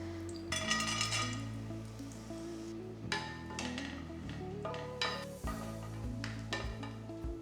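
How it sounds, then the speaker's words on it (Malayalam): Chopped nuts frying in hot ghee in a pan for Kerala unnakaya: a soft sizzle under repeated clinks and scrapes of a metal spoon stirring against the pan, close and steady, with no talk. "നെയ്യിട്ട് നന്നായിട്ട് ചൂടായി കഴിയുമ്പോൾ നട്ട്സ് 1 ടേബിൾ സ്പൂൺ നട്ട്സ് എടുത്തേക്കുന്നത്"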